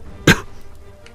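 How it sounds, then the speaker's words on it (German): A single sharp cough from a German-speaking gamer playing War Thunder, close and loud, standing alone against quiet background with no speech around it. "aber dieser Husten ist extremst nervig"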